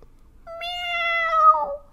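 A voice imitates a cat's meow, giving one drawn-out, clear, close cry that falls in pitch at the end.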